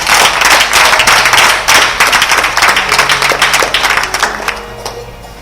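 A church congregation claps and applauds in praise of the Lord, a loud, dense wash of many hands sustained for several seconds before thinning out toward the end.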